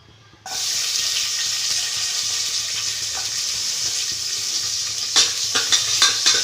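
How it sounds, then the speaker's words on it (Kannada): Finely chopped onion hits hot oil in a pan for a black-eyed pea sambar, bursting into a loud steady sizzle after a quiet start, with a few sharp stirring clatters near the end; no one speaks. "ಈಗ ಇದಕ್ಕೆ ಚಿಕ್ಕದಾಗಿ ಹೆಚ್ಚಿಟ್ಕೊಂಡಿರೋ ಈರುಳ್ಳಿ ಹಾಕ್ಕೊಳ್ತಾ ಇದ್ದೀನಿ"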